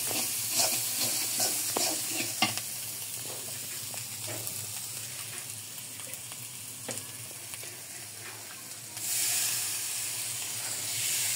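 Spices frying and being stirred in a pan for a country chicken curry, a loud continuous sizzle with scattered spoon scrapes and taps, rising into a stronger hiss near the end, no talk.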